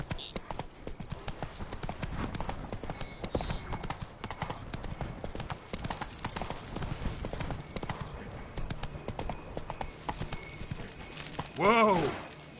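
The horse Roach clip-clops at a steady gallop in The Witcher 3, rhythmic hooves close and continuous, with faint voice and a sharp whinny near the end.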